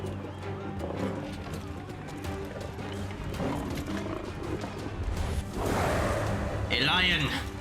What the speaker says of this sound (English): A lion.